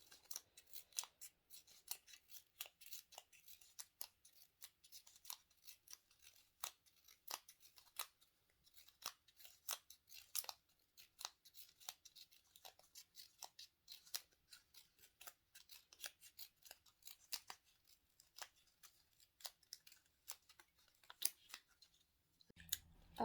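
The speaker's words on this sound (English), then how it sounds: "you're just going to cut down all the way along to make a fringe effect" Scissors snip rapidly and repeatedly through a paper strip, cutting it into a fringe, a long run of crisp, close, quiet cuts with small pauses between them.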